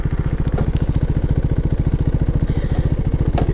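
A KTM Duke 390 single-cylinder motorcycle idles nearby, a steady, even thumping pulse that stays constant and fairly loud throughout.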